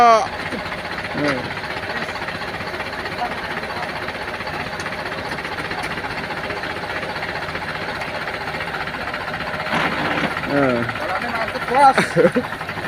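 A heavy diesel tractor engine rumbles steadily and loudly while pulling a stuck palm-oil truck, with a knocking, labouring tone; a few shouted voices break in near the start and end.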